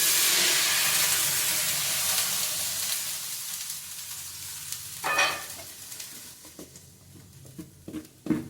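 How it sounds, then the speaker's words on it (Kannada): Dosa batter sizzles on a hot oiled pan, a steady bright frying hiss that fades gradually, then a few scraping and tapping sounds near the end. "ದೋಸೆ ಹಾಕಿ ಕೊಡಾಕತ್ತೀನಿ ನೋಡ್ರಿ."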